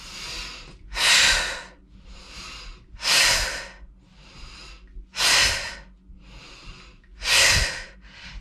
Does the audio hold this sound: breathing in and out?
yes